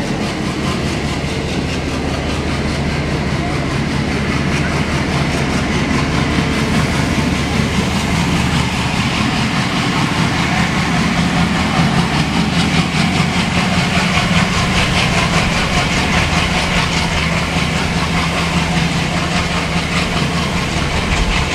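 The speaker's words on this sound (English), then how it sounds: "let's enjoy the ride behind a single ALCo in SHF mode" A single ALCo WDM 3A diesel locomotive in SHF mode hauls an express train, its loud chugging engine throb blending with steady rail rumble and wheel clatter throughout the ride, heard from close by without speech.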